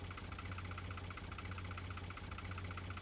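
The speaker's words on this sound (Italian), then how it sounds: "Il trattore ce la fa a malapena, vedete che tende a impennarsi un pochettino" A tractor engine labors steadily while spreading lime on a field, a continuous low droning rumble with a rhythmic pulsing throb and no speech.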